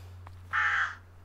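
A bird in the horror video game Through the Woods lets out one harsh, crow-like squawk, moderately loud over a steady low hum of ambience.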